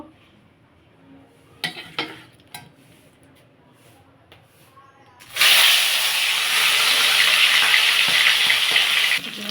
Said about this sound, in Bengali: কড়াই তেল গরম হয়ে গেছে মাছগুলো ভেজে নেব